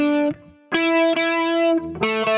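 An electric guitar played through a chorus effect: sustained shimmering chords rung out up close, a few strums with short gaps between them, no voices.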